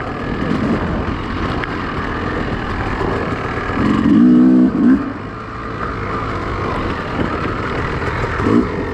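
A Yamaha dirt bike rides at a moderate pace through a hare scramble race course in Blue Hollar near Reeds Spring, Missouri, its engine droning steadily with a brief louder surge midway, heard up close from the rider's position.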